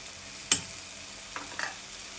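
Spices with salt and chilli powder fry quietly in a pan, a faint sizzle under a sharp knock of the spoon and a couple of softer scrapes.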